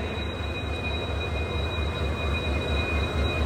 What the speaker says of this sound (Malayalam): ഇതാണ് ലോക്കോമോട്ടീവ്